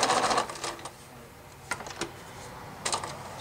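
A sewing machine stitching quilting fabric for continuous bias binding, running in short rapid bursts of mechanical clatter separated by pauses, close and fairly loud.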